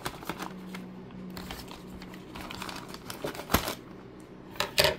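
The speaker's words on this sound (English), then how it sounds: "let's see if I can't get this cut the rest of the way here." A knife slits through the tape and cardboard of a delivered box: close, dry scraping and crinkling strokes in short bursts, with a few sharper snaps near the end.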